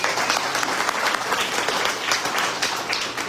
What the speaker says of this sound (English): Give a round of applause for the 2 of them.